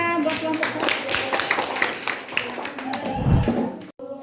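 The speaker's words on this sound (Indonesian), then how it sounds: "Tepuk tangan buat kelompok" Classmates clap for a student group that has just finished presenting in a social studies lesson: brisk, fairly loud group clapping with voices talking over it, ending abruptly.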